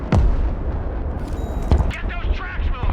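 Mortar rounds fire in the video game Broken Arrow, with heavy booms and rumbling blasts over a few seconds, loud and close, while a voice speaks over the gunfire.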